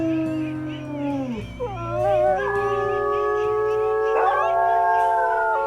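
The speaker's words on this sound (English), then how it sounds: "Let's maybe do a howl," A long, drawn-out wolf howl from WolfQuest, joined by several overlapping howling voices that rise and glide in pitch, sustained and loud for several seconds with no talking.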